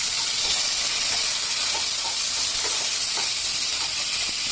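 Fifteen green chillies fry in a small amount of oil in a home kitchen, giving a steady close sizzle and hiss with light stirring scrapes throughout and no talk.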